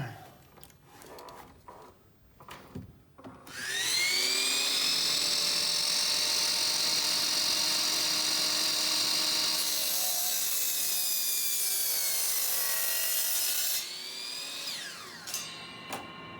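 A loud, high-pitched power tool whines steadily as it cuts through wood, after a few scraping knocks at the start, easing slightly near the end.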